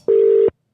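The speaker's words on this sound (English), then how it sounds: "That's the sound of a dial tone." A single steady telephone dial tone, a clean continuous pitch lasting under half a second, loud and close, starting and stopping abruptly with nothing else around it.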